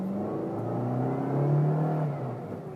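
A 2019 Suzuki Ertiga Sport automatic pulls away from low revs, its engine note a smooth, steady hum that swells to a peak midway and then eases off, heard alone and close.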